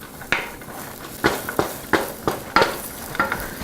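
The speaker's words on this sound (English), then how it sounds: "I love the smell of peppers and onions and carrots all cooking together" Peppers, onions and carrots cooking together in a pan, a gentle sizzle broken by several sharp stirring scrapes and clacks spaced through the stretch.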